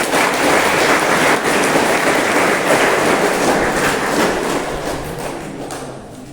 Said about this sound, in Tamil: பெரிய கைதட்டல்.